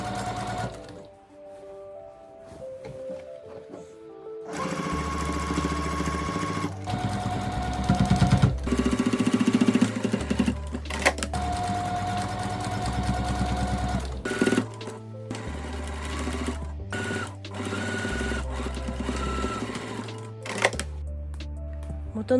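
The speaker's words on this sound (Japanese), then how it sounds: "ミシンをかけていきます。" A sewing machine stitches the hem of a pair of slacks being shortened into half pants with a cuffed finish, running in steady loud bursts with short pauses between them and no talk.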